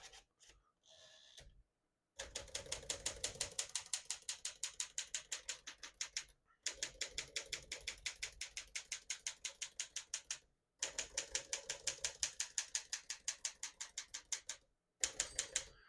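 A 1956 Smith-Corona Silent-Super portable manual typewriter clacks in rapid, steady bursts of keystrokes, close and crisp, separated by short pauses.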